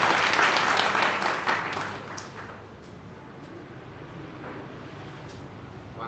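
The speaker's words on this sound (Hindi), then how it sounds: "जोरदार तालियों से स्वागत कीजिए।" An audience at a formal anniversary function applauds to welcome a speaker, a loud burst of clapping that thins out and fades into a quieter murmur of the hall.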